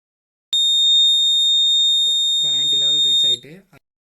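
A water level alarm buzzer sounds as the tank reaches its set level, a loud continuous high-pitched tone lasting about three seconds, with someone talking over its second half.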